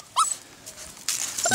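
Six-week-old puppies whimper in a couple of short, high yelps and whines, close by, with brief quiet between the cries.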